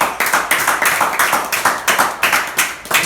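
Church congregation clapping in a steady, rhythmic beat, loud and close, with regular accented claps repeating roughly every third of a second throughout.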